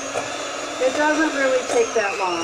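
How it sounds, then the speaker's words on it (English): A steady mechanical whir of a small electric hand mixer runs close by, mixing cake batter, its pitch wavering slightly, while a person talks over it. "So we're going to mix this with the mixer."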